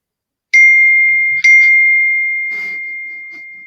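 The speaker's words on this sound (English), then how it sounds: "it's the message come through on the computer" Computer message notification chime, two bright dings in quick succession followed by a softer tone, ringing out clearly and decaying slowly in an otherwise quiet room.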